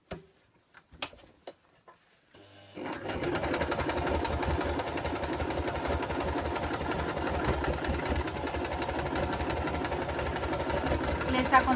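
After a few light clicks, a domestic sewing machine backstitches a denim patchwork handbag, running at a steady, fast, loud whir close by for about nine seconds.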